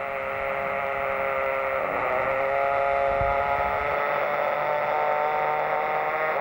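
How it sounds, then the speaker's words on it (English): A steady, dense electronic buzzing and whirring with a faint shifting tone, the amplified activity of a fly's vision neurons, continuous throughout with no pauses or voices. "The noise you can hear is the work being done by the sight neurons."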